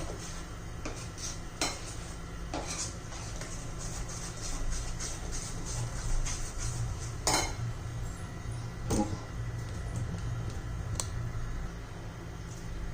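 A spoon stirs rava uttapam batter in a bowl after Eno is added, with steady scraping and clinking against the bowl, a few sharper knocks standing out over a continuous low background.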